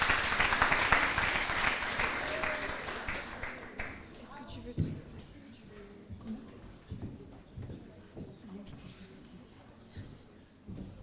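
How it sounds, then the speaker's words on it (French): An audience at a French eloquence competition in Le Mans claps, loud sustained applause at first that fades over a few seconds, then scattered taps and a speaker beginning to talk. "On peut applaudir Sandrella pour l'encourager"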